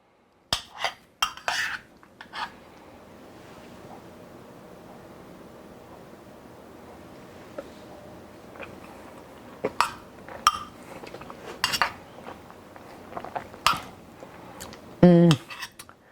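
A metal spoon clinks and scrapes against a baking dish of chicken and rice bake with gravy. The contacts come in scattered bursts, a few early and a busier cluster near the end, with quiet stretches between.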